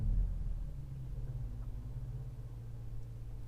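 A 2021 BMW X5M Competition's engine fires up and settles into a deep, steady low rumble, fairly close and even throughout with no talk.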